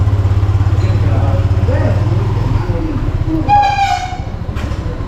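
A train on the railway passes close by with a heavy low rumble and rhythmic clatter of wheels, joined near the end by a brief horn-like tone; voices are faintly audible.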